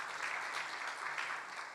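A church congregation claps during a Wednesday worship service, giving a brief, even burst of many hands clapping together in a large room, steady throughout with no speech over it.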